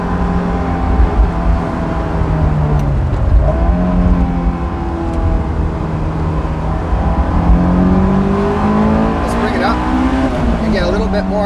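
A Honda S2000 engine revs steadily at around 5,000 RPM with a metallic, urgent tone, loud and close, its pitch sweeping up and down as the car drives through a section, while someone talks over it.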